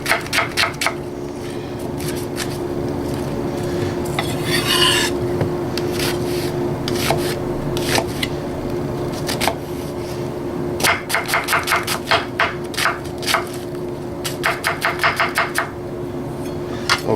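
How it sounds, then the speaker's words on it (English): A kitchen knife chops through a large onion for a medium dice on a cutting board, steady close rhythmic knocks with brief rapid bursts of cuts over a constant low background hum. "I got this large onion here, and I'm going to go with a medium dice."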